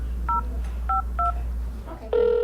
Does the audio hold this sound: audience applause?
no